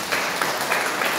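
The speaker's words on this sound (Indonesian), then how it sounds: "Tepuk tangan untuk Tuhan" A church congregation bursts into applause, a dense, steady wash of many hands clapping together that holds for the whole moment.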